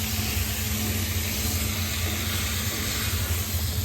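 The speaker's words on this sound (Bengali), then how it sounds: "সেই মাংসটুকু দিয়ে দেবো, দিয়ে তারপরে ভাজা ভাজা করবো।" Chicken meat frying in a pan gives off a steady, loud sizzle and hiss with a low rumbling crackle underneath, continuous for a few seconds with no voices.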